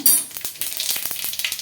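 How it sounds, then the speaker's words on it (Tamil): A quarter teaspoon of fennel seeds hits hot oil, bursting into a loud hiss that breaks into rapid popping crackles, close and energetic, with no talking. "இப்போ பாருங்கள், ஒரு 1/4 டீஸ்பூன் பெருஞ்சீரகம் போட்டுக்கலாம்"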